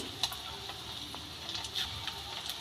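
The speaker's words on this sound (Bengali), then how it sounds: "সব মাছের ডিমের বড়াগুলো এইভাবেই আমি ভেজে নিচ্ছি।" Fish roe fritters frying in oil, a steady quiet sizzle with scattered small pops and crackles running throughout, no voices.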